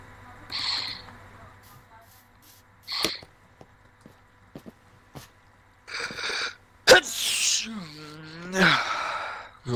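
A single sharp sneeze rings out, followed by several gasps, sighs and breathy throat sounds, fairly close in an otherwise quiet room, with no speech over it.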